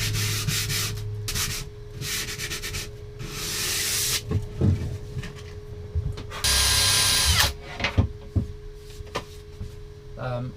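A power tool whirs and grinds against boat woodwork in bursts, with rubbing and scraping between runs, a steady background hum and a louder sustained stretch near the middle.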